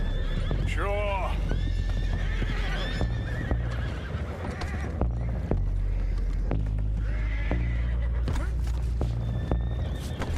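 Horses neigh loudly in Red Dead Redemption 2 gameplay, one whinny up front, while hooves clip-clop and a steady noisy background runs under dialogue.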